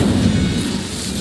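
A fire spell cast in the video game Hogwarts Legacy, a loud, dense burst of low rumbling roar that stays steady for over a second with no voices.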